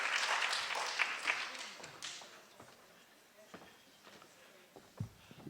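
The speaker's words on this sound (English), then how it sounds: "please join me in giving another round of applause for Christine and that wonderful presentation" An audience applauds at the close of a presentation at a talk on Bing Nursery School and child care, with a dense burst of clapping that fades over about two seconds into scattered claps, shuffling and soft thuds.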